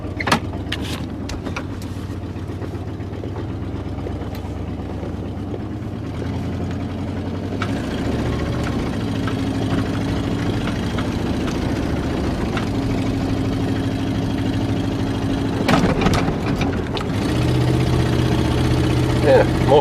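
A vehicle engine idles steadily with a low, even exhaust rumble throughout, fairly close, with a few brief clatters and knocks on top and no speech.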